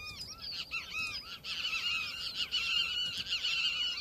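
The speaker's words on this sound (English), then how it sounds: "Kiskadee." A kiskadee from the Minecraft Sonorama mod's desert animals calls with repeated bright, chirping whistles, close and fairly loud, continuing steadily for the whole stretch.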